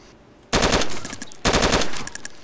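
M4A1 rifle fire in the video game DayZ, two loud sustained bursts of rapid automatic shots separated by a short pause, with a trailing tail after each burst.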